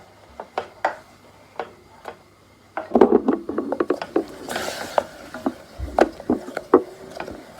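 Thin clicks and knocks of a utensil against a pot as a caramel mixture for Anzac biscuits is stirred, sparse at first, then a busier run of scraping taps with a brief hiss midway.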